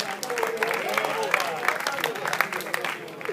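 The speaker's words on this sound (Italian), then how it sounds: "Facciamo ancora un grande applauso alla seconda classificata" Applause for the second-place team at an award ceremony for a futsal tournament, steady dense clapping from a crowd that holds throughout at moderate loudness, with voices mixed in.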